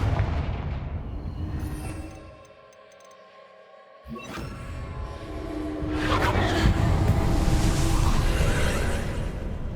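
A Confringo blasting spell explodes in Hogwarts Legacy, with a heavy rumbling boom that dips into near silence, then a sharp crack followed by a swelling, sustained roar of debris and noise.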